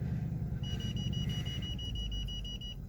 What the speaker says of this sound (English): That's my little beepers being like, there's something in front of you.